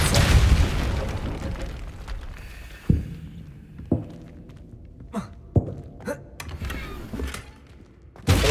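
Depulso spell cast in a Harry Potter video game: a deep booming burst at the start, then a string of short thumps and pops spaced about a second apart.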